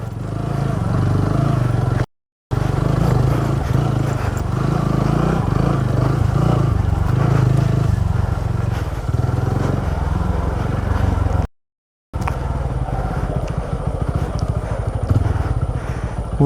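A Royal Enfield Himalayan motorcycle rides a rough adventure trail in Goa, its engine droning loud and steady with rattling and scraping from the terrain, broken by two brief dropouts.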